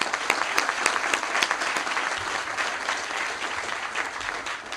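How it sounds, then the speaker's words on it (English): Audience applause at a South Suburban event, with sharp individual claps standing out near the start over a sustained, even bed of crowd clapping. "let's give her a big round of applause"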